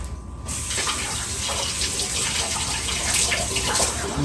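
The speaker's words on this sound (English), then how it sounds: "Let me rinse it more." Vegetables being rinsed under a running kitchen tap, with a steady broadband rush of water that starts abruptly after a brief quiet moment and keeps flowing near and fairly loud, no talk over it.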